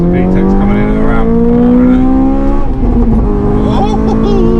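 A Honda Civic FN2 Type R with an ECUTEC remap, heard from inside as its engine revs hard and rises in pitch through VTEC engagement, loud and continuous, with a brief dip before climbing again.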